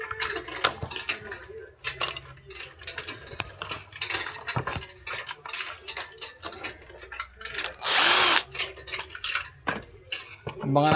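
A power drill backs out many screws to open up a discarded machine, giving a run of close ratcheting, clattering mechanical bursts with one louder whirring spurt. Someone talks intermittently underneath.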